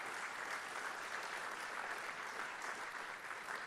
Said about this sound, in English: all of you, please give them a big round of applause